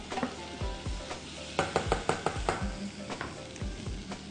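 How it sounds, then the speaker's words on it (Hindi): Eggplant is fried in a pan with finely chopped basil. A continuous close sizzle is broken by quick clusters of spatula clatter and scraping, loudest in a rapid burst midway. "उसको बारीक चॉप कर लें और बैंगन के साथ थोड़ा सा फ्राई कर लें"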